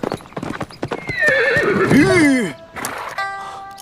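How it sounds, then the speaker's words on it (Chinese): Horse hooves clip-clopping in a period TV drama, with a loud drawn-out neigh in the middle, sharp hoof beats before and after it, and a voice speaking briefly near the end. "我听到马蹄声了。"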